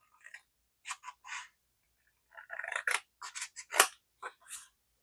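Scissors cut paper in short, crisp snips, a few isolated at first, then a quicker run of cuts, close and clear in an otherwise quiet room.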